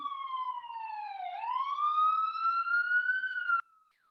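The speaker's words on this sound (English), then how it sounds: "sorry, there's a siren." A police siren wails alone for several seconds on a New York City street, its pitch dipping then rising in a long, steady sweep before cutting off abruptly.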